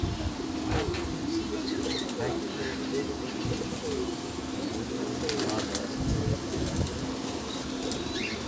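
Pigeons in a loft coo softly in scattered low calls, with occasional light wing flutters, while someone talks nearby over the birds.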